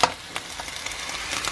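Sliced garlic and ginger frying in a pan, a steady close sizzle with a few brief stirring scrapes, moderately loud and with no voices.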